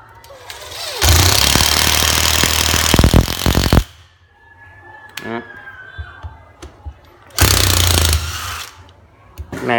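A Hitachi cordless drill driver, a Japanese domestic-market model, runs at full speed in two loud bursts, one long and one shorter. Between the bursts there is a quieter stretch of handling noise with a faint whine.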